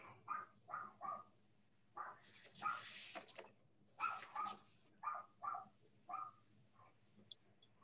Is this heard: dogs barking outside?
yes